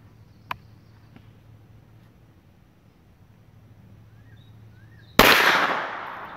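Single loud gunshot from a Hi Point 995 carbine at an outdoor shooting range, a sharp crack followed by a decaying echo, preceded by a couple of faint distant pops against quiet background.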